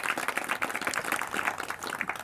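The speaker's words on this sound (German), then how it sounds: "Das ist Ihr Applaus" Audience applause welcoming a guest speaker at a studio talk event on 11 September 2001, a steady dense wash of clapping, fairly close and continuous throughout with no pauses.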